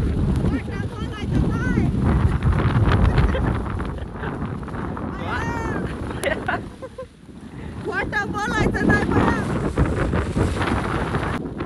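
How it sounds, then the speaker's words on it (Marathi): Strong wind and rain on a trek at Visapur Fort buffet the microphone in a constant roar, with people talking over the gusts. "एवढ्या जोराचा वारा, जोराचा पाऊस"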